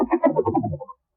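Stuttering glitch effect built for animation sound design: a short burst of rapid, choppy digital chatter that flutters and breaks up for about a second, then cuts off into silence.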